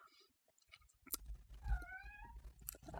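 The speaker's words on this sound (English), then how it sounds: "I hope you can't hear my cat meowing." A pet cat gives a single drawn-out meow in the middle of a quiet indoor scene, among soft rustles and clicks nearby.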